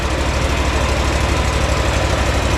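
A Wright Stander X mower engine with a carburetor problem runs steadily up close, a loud, constant throbbing drone with a rough, uneven pulse.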